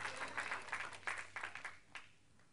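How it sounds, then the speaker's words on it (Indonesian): Faint congregation applause during a Christmas church sermon, scattered uneven claps that thin out and fade over a couple of seconds. "Tepuk tangan yang dahsyat."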